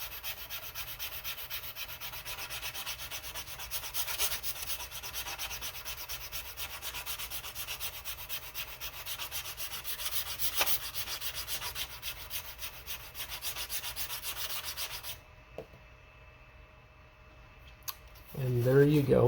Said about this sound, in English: let's go ahead and sand everything on the sides